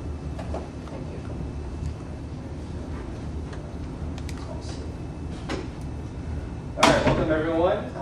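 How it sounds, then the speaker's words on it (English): A door in a room set up for a dissertation defense swings shut near the end, a short burst with a squeak, over steady room noise and faint background murmur. "Pablo, would you close that door for us"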